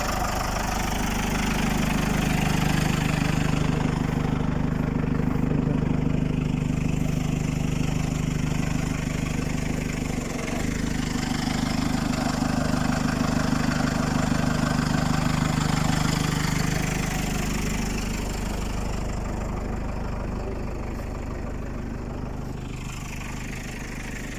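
A John Deere 5083E tractor pulls a plow through a field, its diesel engine droning with a steady low hum that swells and eases slightly as it works, loud and continuous throughout.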